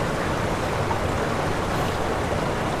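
Floodwater rushes around a tent at a wild camp on a Welsh mountain, a continuous broadband roar of flowing water with no voices, close and steady throughout.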